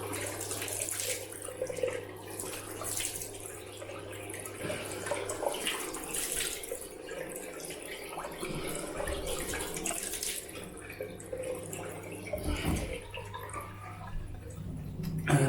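Tap water running steadily into a sink for rinsing during a wet shave, close and moderately quiet, a continuous splashing flow with slight shifts as hands or a razor pass through it.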